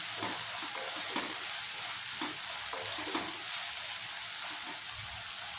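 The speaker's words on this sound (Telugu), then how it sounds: "అది ఉప్పు వేసుకుని బాగా వేయించుకుందాం." Sliced onions with salt fry and sizzle steadily in a pan while being stirred, a continuous close hiss with soft scraping stir strokes throughout and no talking.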